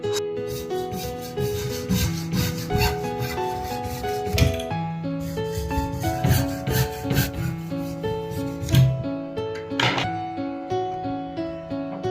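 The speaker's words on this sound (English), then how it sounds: "Now I will cut the PVC pipe by taking reference of our 3D design model." A PVC pipe is cut by hand with rough, rasping strokes that repeat unevenly over steady background music, with a few sharper scrapes standing out.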